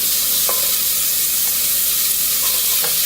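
Bacon fries in a pot with a loud, constant sizzle and crackle close up, and a few faint clinks of a utensil.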